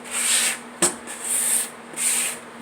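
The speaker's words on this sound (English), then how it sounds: "I'll finish the piece over with a medium grit sandpaper" Medium grit sandpaper rubs over a wooden piece being prepared for blackwashing, three long back-and-forth hissing strokes with a brief knock between them, close and steady, with no talking.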